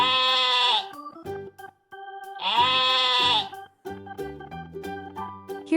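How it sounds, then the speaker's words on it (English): A sheep bleats twice, loud and close, each call long and wavering, followed by shorter tonal sounds and a closing squeak, with no talk. "Look at her soft, fluffy wool. Baa, baa."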